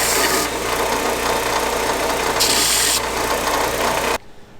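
Continuous harsh grinding on the edge of a Pontiac connecting rod cap from a '68 Firebird 350 engine, loud and close, running steadily before stopping abruptly near the end.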